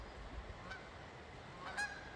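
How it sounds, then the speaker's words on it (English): Two geese honk faintly in the distance as they fly past near an old rural bridge outside Delphi, Indiana, a couple of brief calls over quiet outdoor background. "Ooh, got some geese coming by here."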